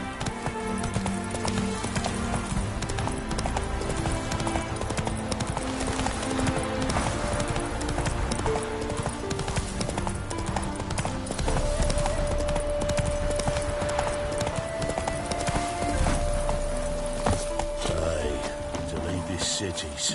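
Roach the horse gallops in The Witcher 3, hooves clip-clopping in a steady rapid beat, mixed under dense game music and ambience with a sustained tone later on.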